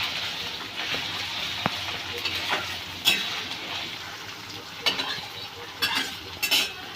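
Mutton sizzles softly in oil in a pot while cooking for a dalcha, with steady low frying hiss and occasional clinks and stirring scrapes of a utensil.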